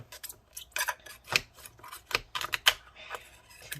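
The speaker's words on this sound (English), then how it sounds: "Okay, so basically we're just cutting all that adhesive under there." Adhesive being cut beneath the battery of a 15-inch Retina MacBook Pro (Mid 2015, A1398), heard as a series of close, sharp scraping snips and clicks in irregular bursts, with no talking.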